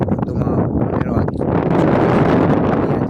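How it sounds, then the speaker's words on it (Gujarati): Strong monsoon wind blowing at a scenic forested spot, a loud continuous roar buffeting the microphone and swelling steadily stronger toward the end. "સરસ મજાનો પવન ઉડી રહ્યો છે"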